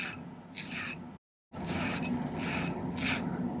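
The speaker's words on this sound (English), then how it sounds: "I want to file the tops of these so they're flat." A metal hand file rasps across the tops of silver ring shank wires in repeated close, gritty strokes, roughly five or six passes with a brief silent pause after the first pair.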